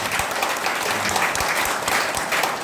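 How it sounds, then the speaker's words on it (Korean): A hall audience applauds at a lecture on judicial reform, giving a steady, full round of clapping from many people, close and even in loudness for the whole stretch, with no voices over it. "우리 큰 박수 부탁드립니다."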